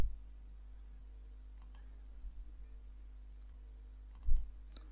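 A computer mouse gives two faint, isolated clicks a couple of seconds apart, with quiet room hum between them.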